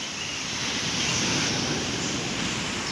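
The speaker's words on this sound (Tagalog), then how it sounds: "Ang lakas ng alon." Steady rushing roar of strong waves breaking on Taal Lake, with constant wind-like noise and no voices.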